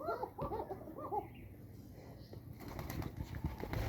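Pigeons on a farm cooing together, a few soft, rounded coos close by in the first second and a half, followed by a low, noisy rustle that may be wingbeats or movement.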